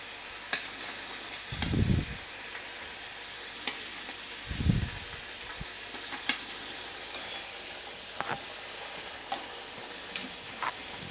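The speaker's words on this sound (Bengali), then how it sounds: "গ্রেভিটা ফুটে উঠেছে এবং আমি ভাজা মাছগুলো এর মধ্যে আমি দিয়ে দেব" Fried aar fish pieces dropped into a boiling kalia gravy in a pan, sizzling and bubbling steadily with two heavy low splashy plops as pieces go in, plus light clicks of stirring.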